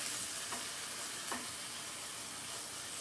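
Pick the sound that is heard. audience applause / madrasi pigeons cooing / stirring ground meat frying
stirring ground meat frying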